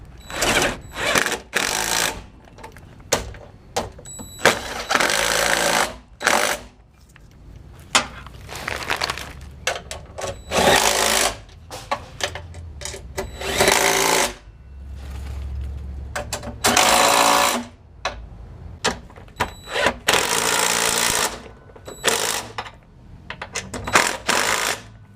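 Power tool driving bolts on Toyota Tacoma nerf bars, with repeated loud, rapid mechanical bursts separated by short pauses and clanks, close and harsh, spread across a long stretch of installation work.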